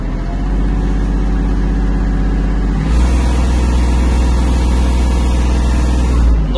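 Kubota GL-260 mini tractor engine running at minimum travel speed, a loud, close, steady low diesel drone with a brief shift in tone partway through.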